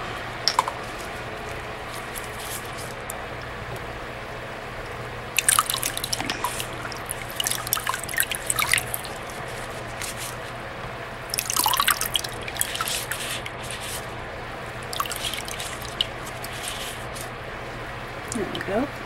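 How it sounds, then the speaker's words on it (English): Running water rinses a handmade pendant after sanding, with splashy bursts and drips over a faint background hum in a small workspace. "Now I'll take my water and rinse it off."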